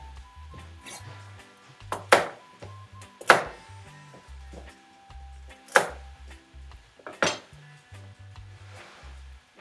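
Celery being chopped during meal prep: several sharp, loud knife strikes against a cutting board, spaced irregularly among lighter taps, over a low steady background hum.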